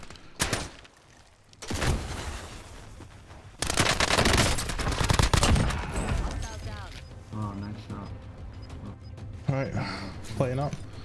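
Gunfire from a Warzone battle royale match, with bursts of rapid automatic fire and sharp shots in loud clusters, mixed with game voice callouts and player talk.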